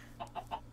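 Three short clucks from a Minecraft chicken, evenly spaced and fairly quiet, over a steady low background hum with no one talking.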